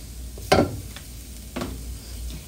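Taco seasoning stirred into vegan beef in a hot dry pan, with two short scraping, sizzling stirs about a second apart over a faint background hiss.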